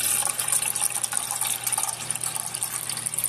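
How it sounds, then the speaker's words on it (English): Water pours steadily into a pot for a dehydrated soup, a continuous splashing trickle heard close up with no talk. "Add the water."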